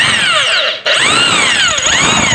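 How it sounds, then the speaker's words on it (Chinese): A power drill with a resharpened bit bores through thick stainless steel, a loud, close, continuous high-pitched grinding whine that briefly dips and then resumes. "我们磨钻头之后再打孔，效果啊还是挺不错的"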